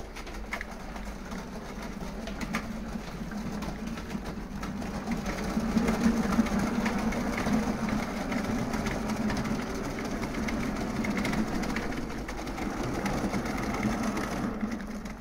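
A small electric drive motor in a Chopper robot model whirs steadily at moderate volume, with a faint mechanical buzz and slight variation in pitch, and no talking.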